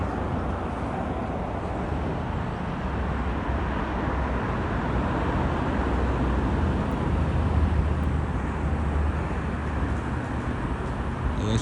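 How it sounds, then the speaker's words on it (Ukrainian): Steady traffic noise from cars passing on roads in Kyiv, a constant broadband rumble and hiss at moderate distance with no single vehicle standing out. "шум від машин, звичайно, все портить"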